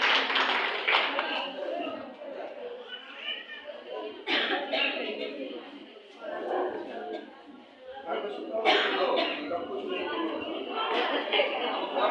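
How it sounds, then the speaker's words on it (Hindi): Audience clapping at a school farewell function, a loud, steady ripple of applause from a crowd lasting throughout, with brief surges and some chatter mixed in. "एक बार जोरदार तालियां बजाएं उनके लिए आप लोग।"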